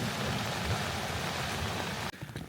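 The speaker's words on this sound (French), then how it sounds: "je vous montre un petit peu le paysage avec cette pluie qui tombe" Rain falls steadily in the Yellowstone landscape, a dense, loud, continuous hiss of drops that cuts off abruptly just before the end, with no voices.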